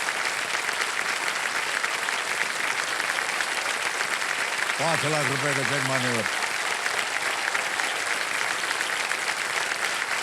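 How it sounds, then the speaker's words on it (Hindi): Studio audience applause on KBC, a quiz show, steady dense clapping through the whole stretch, with someone speaking briefly over it near the middle. "ताली बज जाए इनके लिए।"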